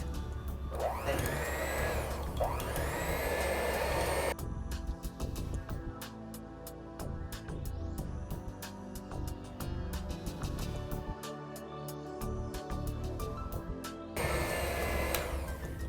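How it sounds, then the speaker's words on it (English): A stand mixer fitted with dough hooks churns thick cream soap while hydroxides are added, a steady loud motor whir with knocking and clattering throughout, the pitch shifting as the load changes. "Dough hooks in mixer replicate commercial cream soap making equipment."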